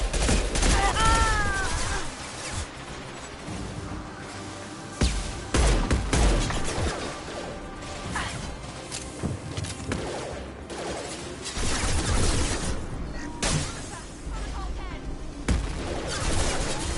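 Rifle gunfire in the video game Mass Effect, rapid bursts and single cracks layered with crashes and battle effects, loud and dense throughout, with a voice talking over parts of it.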